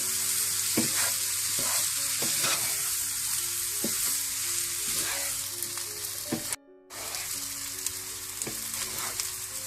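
Rice being stirred into sautéed vegetables in a hot pan for Chinese fried rice, steady soft sizzling with repeated scraping stirs, with a brief dropout near the end.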